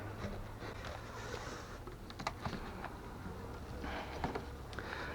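Buckfast honeybees hum steadily around a hive in spring, a faint close buzz with scattered soft taps and rustles as frames are handled, no talk.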